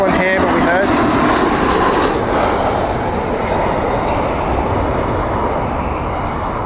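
A British Airways Airbus heavy airliner lands at Heathrow, its loud engine roar close and sustained before easing slightly, with voices talking over it.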